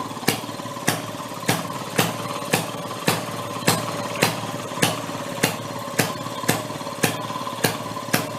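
Maytag 92 hit-and-miss engine from a flea market, running with sharp, evenly spaced firing pops about every half second over a steady mechanical clatter, close and clear.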